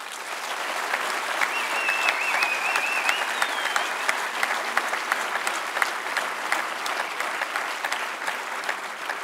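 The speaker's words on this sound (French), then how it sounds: "Vous pouvez l'applaudir une dernière fois." An audience at the closing speech of a national congress gives sustained, dense applause. The clapping is continuous and even, with no break for its whole length.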